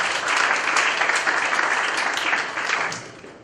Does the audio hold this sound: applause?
yes